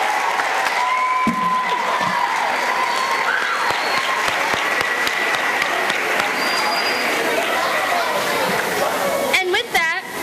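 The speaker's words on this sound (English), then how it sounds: "can we get a round of applause for all of our students first?" An audience of parents and guests at a middle school event gives sustained, dense applause for the students, steady and close throughout, with chatter and a few voices mixed in near the end.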